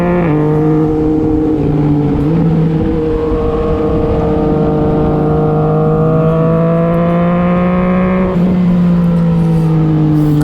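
A Yamaha Xmax 400cc scooter and a Yamaha MT-09 motorcycle overtake on a slippery old mountain road up Doi Suthep, their engines droning loud and close with pitch rising and shifting as they accelerate, with no talking.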